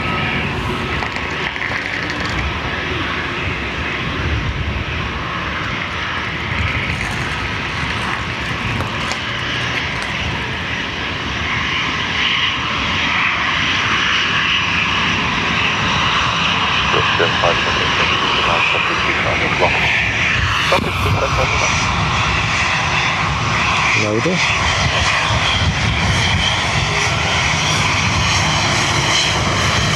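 A departing airliner at Dublin Airport roars steadily through its takeoff run, a loud broadband engine rumble that holds for the whole stretch, with people talking now and then over it.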